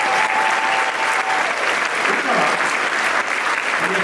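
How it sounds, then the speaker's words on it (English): An audience applauds an award honoree at a philanthropy awards event. The clapping is dense and steady, filling the room for several seconds, with a few faint voices mixed in. "So let's give her a round of applause."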